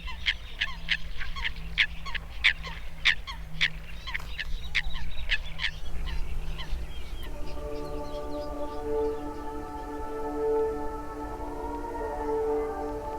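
Waterfowl call from reeds, starting with a rapid run of sharp honking and clucking calls like coots, then shifting to steadier drawn-out tonal calls, moderately close with no voices.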